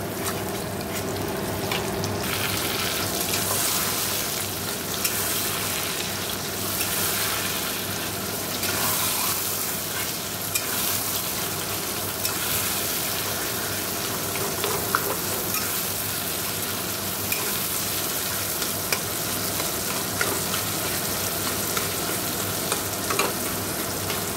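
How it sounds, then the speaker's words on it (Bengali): Garlic, chili and onion spluttering in hot oil as a tempering, a steady loud sizzle with occasional stirring scrapes and clinks throughout, no voices. "আগে রসুন লঙ্কাটা ফোড়ন দিচ্ছি, তারপর পেঁয়াজ দেওয়ার পরে 5 ফোড়ন শুকনো লঙ্কাটা ফোড়ন দিচ্ছি"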